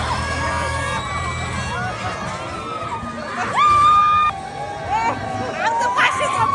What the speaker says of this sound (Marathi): इथं लयच गर्दी आली